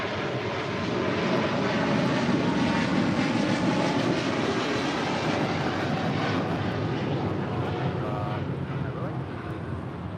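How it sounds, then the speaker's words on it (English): EVA Air Cargo Boeing 777 freighter departing LAX for Taipei, a broad, steady engine roar with wind rumble heard from a distance, holding level for about ten seconds. "That is EVA Air Cargo 609 departing to Taipei on a 777 freighter."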